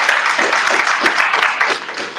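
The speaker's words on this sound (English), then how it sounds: "Let's give an applause for this moment." A press conference audience breaks into brief, lively applause, dense overlapping claps filling the room at close range without any voices.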